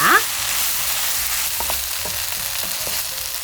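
Spicy pork stir-fry (jeyuk bokkeum) with plenty of green onions sizzling loudly in a pan, a steady close frying hiss with soft rhythmic scrapes and taps of the spatula repeating throughout.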